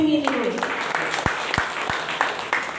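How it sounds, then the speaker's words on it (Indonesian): Guests applaud at the 27th anniversary celebration of the Museum Pusaka Nias, scattered hand claps rising under a speaker's voice and room hubbub. "Tepuk tangan untuk tim ini."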